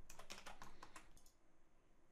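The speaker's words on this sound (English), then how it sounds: "I'm going to type in" Fingers type a short burst on a computer keyboard, about a dozen quick, crisp key taps close by, then quiet room tone. The sound is faint overall and no one speaks.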